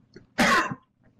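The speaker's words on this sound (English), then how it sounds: "I have to cough a second." A man in a lecture gives a single sharp cough that turns into a throat clearing, close and fairly loud, with near silence before and after.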